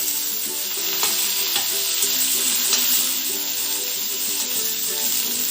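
Mustard seeds, urad dal and curry leaves crackle and sizzle steadily in hot oil while being stirred for a tapioca vada tempering, a continuous close hiss with faint pops and no talking.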